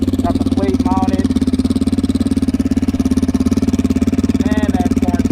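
Turbocharged dirt bike engine idling steadily at roughly 1900 to 2100 RPM, a loud, close, even throbbing pulse that runs the whole time, with a few brief tonal chirps over it.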